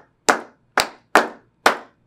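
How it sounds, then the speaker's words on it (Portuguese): Four sharp hand claps, close and evenly spaced in a slow rhythm, sounding alone with no voices. "Vocês podem bater palmas assim, ó."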